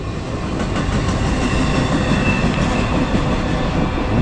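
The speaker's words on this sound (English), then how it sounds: "Most exciting thing to happen in town all day, right there, that big freight train." A big freight train rolls past a small West Virginia town at close range, a loud, steady rumble with clickety-clack of wheels over the rails throughout.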